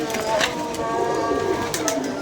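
Pigeons coo and flutter close by, soft repeated calls mixed with a voice talking over a busy background.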